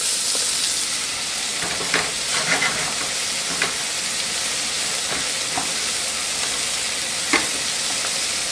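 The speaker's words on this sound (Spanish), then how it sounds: "Así se está friendo el salami." Steady, close sizzling and crackling of salami frying in a pan, with occasional small pops and stirring scrapes throughout.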